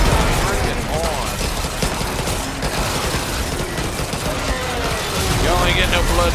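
Pistol turrets fire rapid bursts at vampires in Yet Another Zombie Defense HD, a dense, continuous clatter of small gunshots and mechanical clicks under busy game noise.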